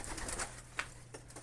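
Racing pigeons cooing at a loft while birds return from a 310-mile race from Hilt, California; soft, faint, scattered calls over a low steady hum.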